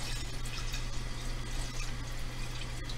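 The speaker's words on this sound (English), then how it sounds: "So I'm going to fill up a very small amount of the water." Filtered tap water runs steadily into a pot for cooking pasta, a continuous close rushing and splashing with a low hum beneath.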